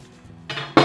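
A kitchen knife set down on a counter, two quick close clinks, the second louder and sharper, alone with no talking.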